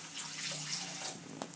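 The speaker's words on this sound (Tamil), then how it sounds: "கொஞ்சம் தண்ணி ஊற்றிக்கலாம்." Water runs and splashes steadily into a cooking pot for rasam, a soft continuous pour with a faint drip near the end, fairly close.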